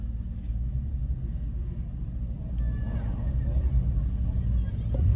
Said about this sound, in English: That's the sound of Bumblebee.